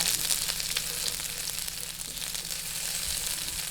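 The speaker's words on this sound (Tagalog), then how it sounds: "magisa na po tayo ng bawang" Garlic sautés in oil in a pan, giving a dense, close sizzle that holds steady throughout, with no voices over it.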